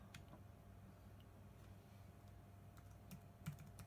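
Faint, soft keystrokes on a computer keyboard as a password is entered during a macOS software installation, a sparse scatter of quiet clicks over a low room hum.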